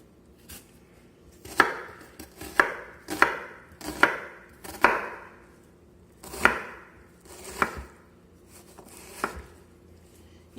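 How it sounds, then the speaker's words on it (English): Knife dicing onions into a medium dice on a cutting board, with roughly nine irregular, crisp chops spaced about a second apart, close and fairly loud, with a faint kitchen hum between strokes. "I'm gonna just dice my onions like pretty big, like a medium dice"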